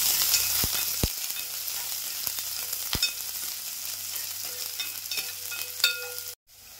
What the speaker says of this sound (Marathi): कांदा असा व्यवस्थित भाजलाय